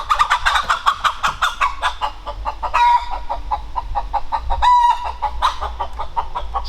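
A hen clucks in rapid, repeated bursts close by, joined by other fowl calls and a couple of louder squawks, on a homestead with no speech.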